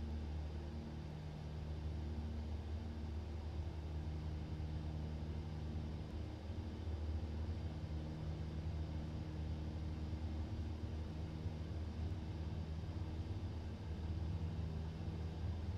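Aircraft engine running at full throttle through a takeoff roll in a flight simulator game, a steady low droning rumble with a constant hum that holds evenly throughout, alone without talk.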